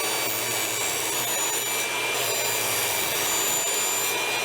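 Fence picket wood is sawn lengthwise down to four inches wide, giving one continuous, fairly loud rasping cut that stays steady from start to finish, with no voices.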